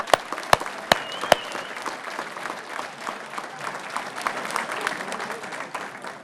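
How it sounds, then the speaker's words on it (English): A room full of people applauds past Good Guy award honorees at a recognition event, with steady, dense clapping throughout and a few sharp, louder claps standing out near the start. "How about a nice big round of applause for all of our past good guys?"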